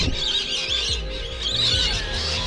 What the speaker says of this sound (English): It's so noisy here. My God, birds everywhere.